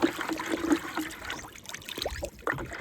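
Water being poured into about 2.5 kg of curd in a mixing container, a splashing, trickling stream that fades to sparse drips and splashes near the end.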